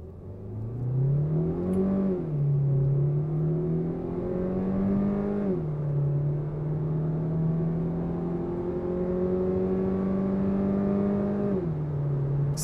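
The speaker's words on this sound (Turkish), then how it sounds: "Spor moddayım. 0-100 yapacağım." An MG HS in sport mode accelerating hard from 0 to 100 km/h, heard from inside: the engine note climbs steadily, dips briefly at each of several gear changes, then rises again over road and cabin drone.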